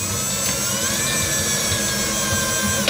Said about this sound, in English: I'm gonna drill a hole in this tank.